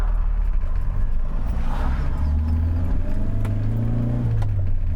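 Renault 10 car heard from inside while driving, its engine accelerating with a rising hum and steady low road rumble, fairly loud and continuous with no talk.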